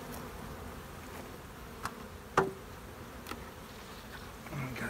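Honey bees swarming around a small nuc hive, formed by condensing a weak colony, make a steady, fairly quiet hum, broken by a few soft knocks and clicks.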